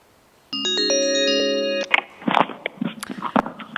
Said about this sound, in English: it looks like we do have another phone call coming in